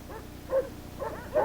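Sled dogs in Antarctica on a naval expedition, several short barks and yips in an uneven rhythm, moderately close over a steady low background hum.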